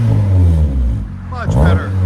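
A 2010 Nissan Altima S 2.5L four-cylinder with an Evil Energy resonator revs loudly nearby, its deep exhaust drone dipping briefly and then climbing again, while a voice talks over it.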